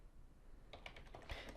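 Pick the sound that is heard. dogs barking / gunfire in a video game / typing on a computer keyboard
typing on a computer keyboard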